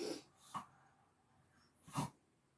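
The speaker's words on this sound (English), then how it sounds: "if you hear any strange noises, it's Pep, my dog." A dog lying on a bed gives a few short snorts and breathy huffs, close by and fairly faint, spaced out with quiet between them.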